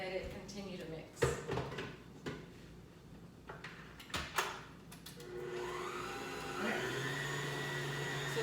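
An electric mixer whirs steadily through pumpkin roll batter after a few knocks and clatters, the motor drone settling in near the end while a person talks over it.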